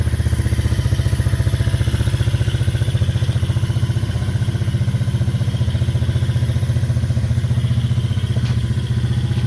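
A Honda TRX200SX ATV engine idles steadily and loud at close range, its rapid, even pulsing continuous throughout with a light mechanical clatter on top.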